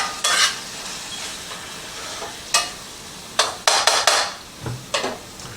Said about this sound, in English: while the meat is simmering